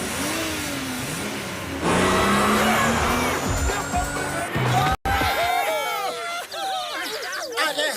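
Cartoon car engine revving and racing off with squealing tires, a loud sustained whine that rises in pitch, with frantic cartoon voices shouting over it.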